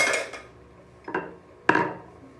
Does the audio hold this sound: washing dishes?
yes